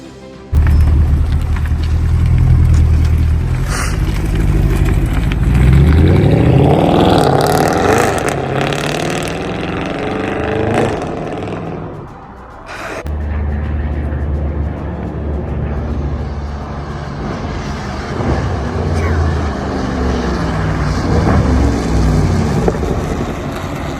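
A Mercedes C63 AMG 507 Edition V8 drives under load, its deep engine rumble swelling through loud revving runs and gear changes, easing briefly before pulling hard again, with no voices over it.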